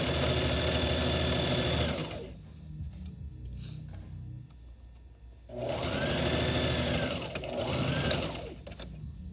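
Sewing machine stitching bias binding at a lowered stitch length, a close, steady mechanical whir in two bursts separated by a short pause filled with quieter handling sounds.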